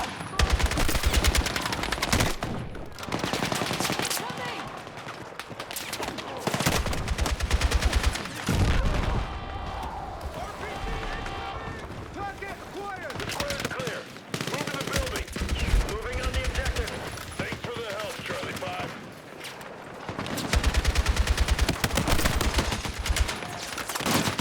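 Gunfire in the video game Battlefield 6 during a friendly-fire moment: repeated bursts of automatic rifle fire crackle loudly in clusters with short gaps between them, and a voice talks over the shooting.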